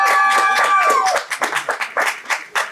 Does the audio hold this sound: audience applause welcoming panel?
yes